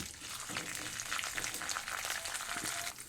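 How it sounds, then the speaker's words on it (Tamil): Toor dal and dried red chillies fry in hot oil in a pan, a steady, fairly quiet crackling sizzle throughout, with faint stirring and no talk. "கொஞ்சோண்டு துவரம் பருப்பு சேர்க்குறோம். 5 மிளகாய், வத்தல் மிளகாய். நல்லா இதை கொஞ்சம் பொரிய விடணும்."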